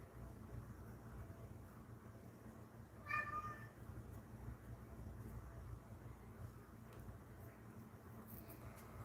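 A person imitates a cat's meow over the phone, a short faint meow rising once about three seconds in against quiet background hiss.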